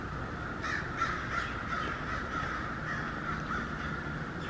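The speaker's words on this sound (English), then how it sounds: "And the birds are chirping. Yeah, the birds are going nuts." Crows caw repeatedly at a moderate distance on a cold morning, their harsh calls overlapping noisily against a steady outdoor background hiss.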